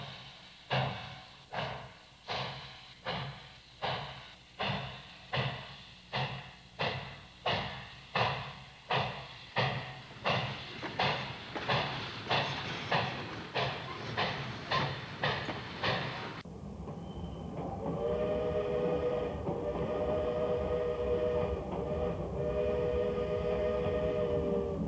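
ET&WNC Tweetsie narrow-gauge steam train running in the Blue Ridge mountains, heard from atop a boxcar: loud, rhythmic exhaust chuffs beat steadily for about sixteen seconds, then give way to a sustained whistle blast over continuous rumbling.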